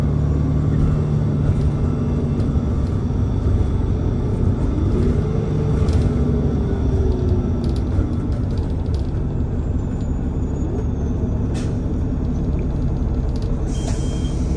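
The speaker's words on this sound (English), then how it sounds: "here we are on the 19 Bay bus" Steady low engine rumble and road noise fill the cabin of a moving 19 Bay city bus, with faint rattles and a brief tonal whine partway through, no voices.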